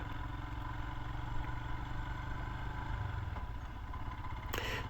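A Royal Enfield Himalayan motorcycle runs on a county road, its engine a steady close rumble mixed with wind and clatter during a break-in ride, with no voices.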